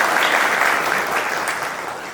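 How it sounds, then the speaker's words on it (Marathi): An audience applauds at a tea franchise get-together, a full burst of close clapping that runs without a break and gently fades toward the end. "पूर्ण ग्रुपसाठी टाळ्या व्हायला पाहिजे"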